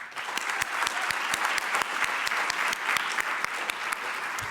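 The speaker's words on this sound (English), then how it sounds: "He thanks you for clapping." An audience at an innovation showcase event applauds: dense, steady clapping from many hands that stays at an even level throughout, with no voices over it.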